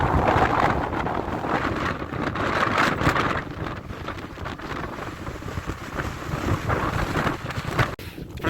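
Very strong Nord-Ost wind on the Markhotsky ridge above Novorossiysk, roaring and buffeting the microphone continuously and loudly, with gusts rising and falling throughout.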